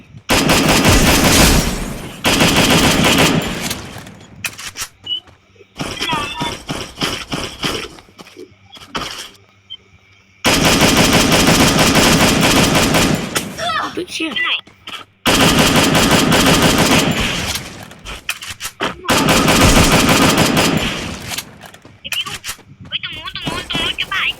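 Loud, close gunfire comes in long sustained automatic bursts separated by brief gaps, dominating throughout, with voices shouting intermittently between volleys.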